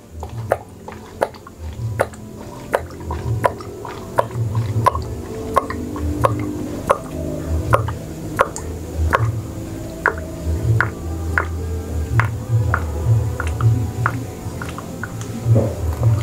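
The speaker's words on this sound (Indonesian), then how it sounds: "untuk mempercepat proses pemindahan tinta dari botol tinta art paper ke tinta original printer Epson" Ink dripping from a bottle into the tank of an Epson L1110 printer, a steady series of crisp, close drips ticking at an even pace over a low background rumble.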